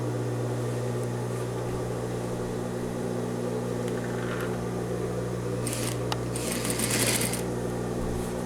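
A sewing machine runs steadily and close by as it stitches two vest fabric pieces together from top to bottom, with a constant motor whir and a few brief rustles of fabric being handled near the end.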